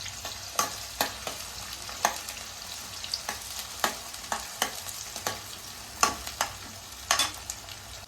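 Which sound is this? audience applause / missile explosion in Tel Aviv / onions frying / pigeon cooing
onions frying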